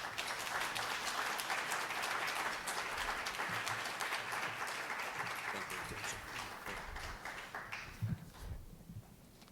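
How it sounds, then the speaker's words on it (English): Applause from the audience at a 2015 Bronx education technology showcase after its keynote. The dense clapping sounds faint and somewhat distant, with a few louder claps near the end as it starts to die down. "Please, another round of applause."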